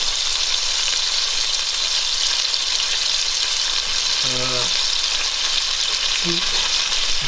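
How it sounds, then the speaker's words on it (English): Tomatoes tipped into a hot frying pan for penne amatriciana give a loud, constant hissing sizzle, with a brief clatter of stirring partway through and no talking. "I'm adding the tomatoes and I'm stirring up"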